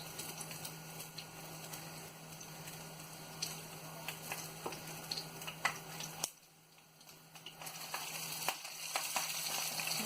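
Aloo tikki potato patties fry in oil in a pan, a soft, steady sizzle with faint crackles and ticks, quiet and close, briefly dipping before resuming.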